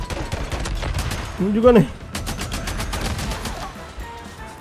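Rapid bursts of gunfire ring out in a zombie video game on PS5, with quick rattling volleys spread across the stretch, while someone speaks and a moaning, wavering voice rises briefly in the middle.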